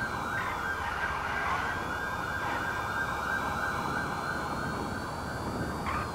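Police car sirens in the video game GTA 5 wail loudly and continuously, a rising and falling electronic tone layered over road rumble for the whole stretch, with no talk.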